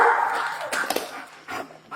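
A sheriff's police K9 dog barking and yipping in short excited bursts close by, irregular and fairly loud, with brief pauses between outbursts.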